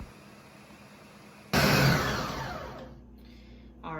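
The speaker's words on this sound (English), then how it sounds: "start gradually adding ingredients to the blender and blending them down" Blender starts up abruptly to puree thick ingredients with cilantro, a loud whirring roar that slowly fades and strains before cutting out, with a short burst again at the end.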